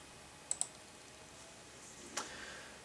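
Two quick mouse clicks in close succession, faint and near, on an install button during a JoliOS Linux setup, then a softer third click a moment later over quiet room hiss.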